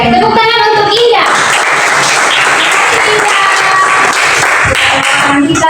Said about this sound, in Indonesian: tepuk tangan untuk Indah